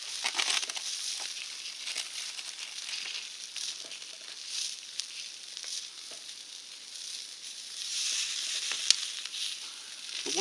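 Sausages sizzle on the flat plate of a Volcann stainless steel portable grill, a steady, close hiss of frying fat with small crackles and pops running unbroken throughout, no voices.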